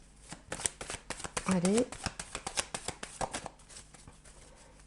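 Tarot cards are shuffled close by in quick, riffling flutters and soft slaps while someone talks quietly over them.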